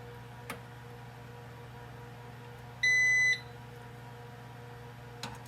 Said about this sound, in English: that's the UPS, the backup battery system for their Verizon phone system.